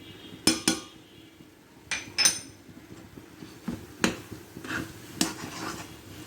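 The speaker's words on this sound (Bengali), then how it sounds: "আবার সব উপকরণ একসঙ্গে মিশিয়ে নিচ্ছি।" A spoon or utensil clinks and scrapes against a bowl while mashed banana and flattened rice for sondesh are stirred together, sharp irregular knocks spaced about a second apart over quiet background.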